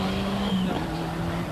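A Ford Sierra Cosworth rally car engine on a Galway rally stage drones steadily nearby with a sustained buzzing note that shifts slightly in pitch, and the car's engine is close to failing.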